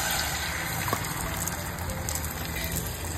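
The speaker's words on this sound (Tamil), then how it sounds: "பேன்ல எண்ணெய்லாம் ஊத்திட்டோம். அப்படியே ஒரு ஊத்து." Cooking oil pours into a pan for an onion omelette, a close, steady gushing and trickling of liquid that runs unbroken for a few seconds with no talking over it.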